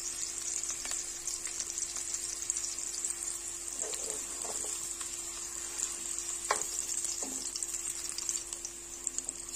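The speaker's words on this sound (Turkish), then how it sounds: "O yüzden az bir sıvı yağda şimdi havuçlarımın rengini verinceye kadar soteleyeceğim." Carrots sauté in a little oil with a constant bright sizzle, close and even, broken by a few soft stirring clinks and scrapes, with no talking.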